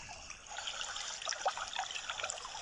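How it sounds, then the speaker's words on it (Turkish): Water trickles and burbles softly in a small stream in Ballıkayalar Nature Park, Gebze, Turkey, a gentle continuous flow heard up close in a quiet setting. "Şırıl şırıl su sesi"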